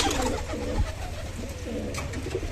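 A female pigeon coos in soft, repeated low rolling phrases, close by, with faint background noise throughout.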